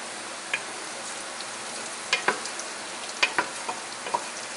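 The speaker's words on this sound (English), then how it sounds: "And then we're going to stir it around." Herbs and bay leaves are stirred into roasted tomato Florentine soup in a pot, a faint simmering hiss under a handful of light spoon clinks and scrapes against the metal.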